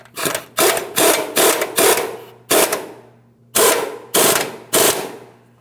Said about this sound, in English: tighten the mounting nut side.